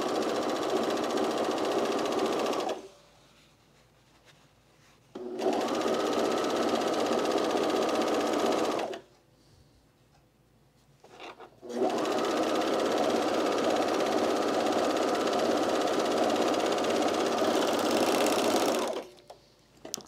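Sewing machine stitching the seam on a pair of Peaks and Valley pants in long, steady motor runs of about three and eight seconds, broken by short pauses, loud and close.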